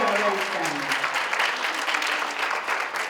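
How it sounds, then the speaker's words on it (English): Dense, sustained applause from an audience at a women's forum, many hands clapping loudly together for the event organizer, with a voice speaking briefly over the start. "give her a good round of applause"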